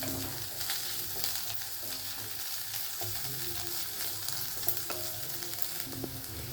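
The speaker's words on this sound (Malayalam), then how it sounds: "നമുക്കിപ്പോൾ ഇതിൻ്റെ അകത്തിലോട്ട് ജിഞ്ചർ ഗാർലിക് പേസ്റ്റ് ഇട്ട് കൊടുക്കാം. ഒന്ന് വഴറ്റുക." Ginger garlic paste sautéing with onions in a pan for an egg masala curry, a steady close sizzle with faint stirring scrapes throughout and no voices.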